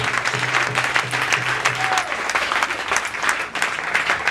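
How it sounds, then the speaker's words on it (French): A church congregation at a worship service claps steadily and continuously, dense applause filling the room from start to finish, with a voice briefly audible underneath. "nous applaudissons simplement Jésus"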